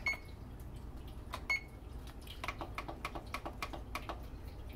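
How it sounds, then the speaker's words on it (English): A kitchen timer is set while cookies bake, a run of quick plastic button clicks and taps with a faint beep early on, close by and without talk. "We will set the timer."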